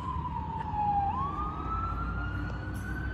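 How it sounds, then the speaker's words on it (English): An ambulance siren passing down the road, a single wailing tone that sweeps down and then rises again, moderately distant and steady over low traffic rumble. "I hear an ambulance."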